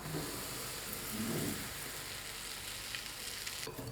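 Hot oil just off the heat is poured into plain flour in a bowl and stirred, producing a faint, continuous crackling hiss that stays fairly even, with soft scraping near the end and no voices.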